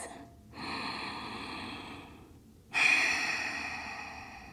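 Deep breathing during a yoga flow: two long, close airy breaths, a slow inhale or exhale and then a stronger one that fades away.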